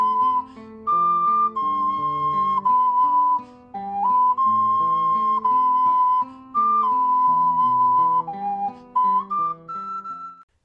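A 12-hole ocarina plays the Song of Storms melody from The Legend of Zelda in pure, breathy, whistle-like held notes over a soft chordal backing, steady and clear at moderate volume.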